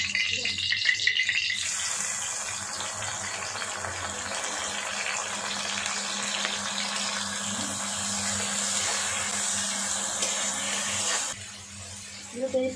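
Onions dropped into hot oil in a pan, a sustained close sizzling hiss that starts suddenly after a moment of handling noise, runs steadily and then drops away near the end, with a voice faintly underneath.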